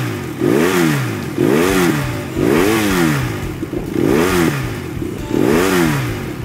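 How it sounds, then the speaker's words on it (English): BMW F800R motorcycle parked on its stand in neutral, engine blipped five times in a steady rhythm, each rev rising and falling sharply, loud and close with no talking. "you can feel the bike kind of almost wanting to come forward off the stand there when I rev it up a bit"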